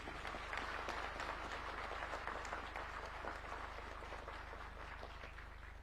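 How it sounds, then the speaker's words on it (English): Crowd applause at a National Defence University ceremony presided over by President Ruto, sustained clapping from many people over a constant low electrical hum, holding steady before thinning slightly. "Let us give them a round of applause."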